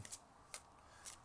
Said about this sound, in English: here we go shuffling for your card for the year.